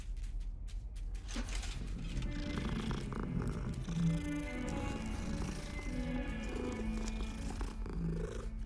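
A cat in Hogwarts Legacy purrs up close in a continuous low rumble, with occasional faint game sounds underneath.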